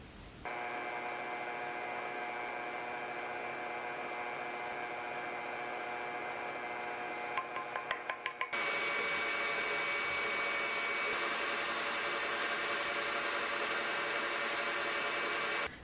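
An electric stand mixer creams butter, oil and sugar together in a bowl, a steady close whirring hum that shifts to a brighter, louder pitch partway through, with a few faint clinks.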